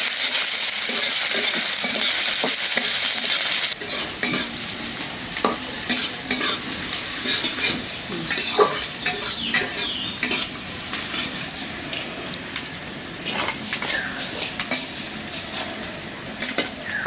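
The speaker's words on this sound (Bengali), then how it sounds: "পেঁয়াজগুলি আমি লাল করে ভাজা নিলাম সুন্দর করে" Onions fry in a hot pan with cumin, a constant sizzle broken by repeated scraping and clinking of a spoon stirring against the metal, close and fairly loud.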